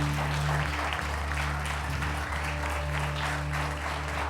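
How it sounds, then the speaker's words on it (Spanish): Steady, sustained applause from a church congregation, dense clapping filling the whole stretch with a low hum in the background. "le damos más fuerte ese aplauso a nuestro Dios"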